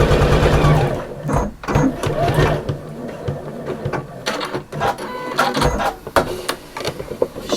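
A sewing machine stitches along the bottom of a bag lining in loud, close, steady mechanical whirring runs, pausing briefly between bursts.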